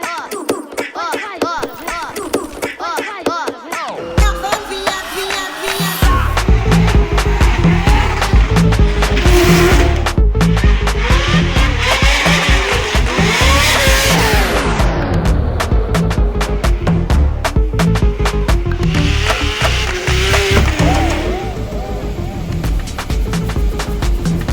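A racing car is driven hard around a track, its engine droning loud and steady with gear changes and rising revs, and a voice is heard briefly over it.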